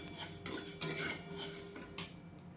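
Spoon stirring and scraping a roasted fasting flour mix with cumin in a metal pan, repeated soft scrapes with a few sharper clinks against the pan, quiet and close.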